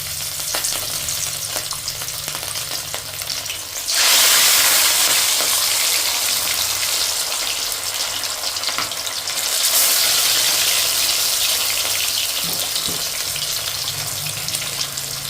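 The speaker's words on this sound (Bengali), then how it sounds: "মাছগুলোকে আমি একটু লাল লাল করে ভেজে নিয়ে নেবো একটু কড়া করেই ভাজবো" Pieces of catla fish fry in hot salted oil in a pan, a dense, loud, steady sizzle that surges louder twice as the fish is browned crisp.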